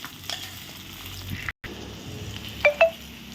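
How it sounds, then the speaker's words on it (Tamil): Onions for chicken curry stirred in a hot pan, a soft sizzle broken by a brief dropout, then two sharp scraping clinks of a spoon near the end, close and clear. "அப்புறமா பெரிய உள்ளி போட்டு ஒரு கிண்டு கிண்டி இது நல்லா வசக்கணும்"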